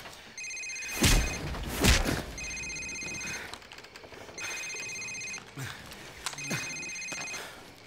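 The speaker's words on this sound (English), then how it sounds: "Sir, it's his cell phone." A cell phone rings repeatedly in a Call of Duty 4: Modern Warfare safehouse scene, four electronic ring bursts with short gaps, mixed with heavy thuds and scuffling movement.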